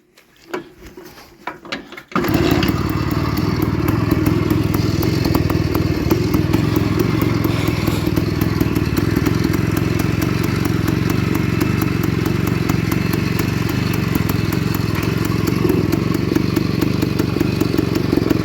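A classic vintage motorcycle engine idles evenly, a loud, close, steady thrumming with fine mechanical clatter; a few quiet knocks come before it catches and then runs smoothly with no break.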